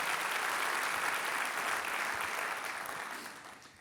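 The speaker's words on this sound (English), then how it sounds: "Let's give Virgin Orbit a big round of applause for the work they do." An audience at a Long Beach civic event claps in a dense, sustained round of applause that holds steady, then gradually fades toward the end.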